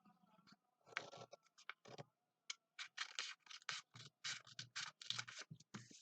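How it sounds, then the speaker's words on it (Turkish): Scissors snip through folded paper while a bookmark is being made, a series of quick, close, crisp cuts and rustles in irregular bursts with short pauses, fairly quiet and with no talking. "Sonra şu makasla kesiyorum."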